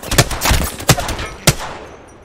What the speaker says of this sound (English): I can go into single bullet mode and fire up in shots